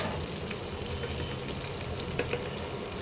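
Boiled potatoes frying in oil, a steady close hissing sizzle with soft crackles and light bubbling, continuous and fairly quiet with no voices.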